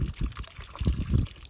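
Water gurgles and sloshes in a sample bottle held into a stream current, rising and falling in short pulses nearby, with some talking underneath.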